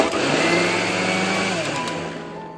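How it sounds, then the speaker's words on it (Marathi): A mixer grinder whirs as it blends curd for kadhi, a loud continuous motor drone held steady and easing slightly toward the end, with no talking. "दही पूर्ण ना मिक्सरच्या भांड्यामध्ये बारीक करून घालायची एकदम मिक्सरला लावली की कशी बारीक होते"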